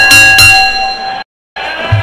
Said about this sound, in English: Referee counted 3. The bell is rang.